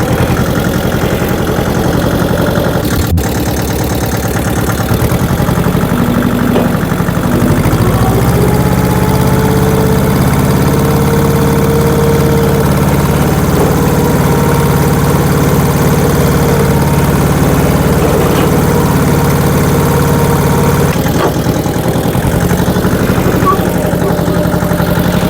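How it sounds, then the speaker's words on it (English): A loud, steady tractor engine idles close by on a farm for the whole stretch, a constant low rumble and drone with a brief knock near the start. "Actually, let's use the tractor."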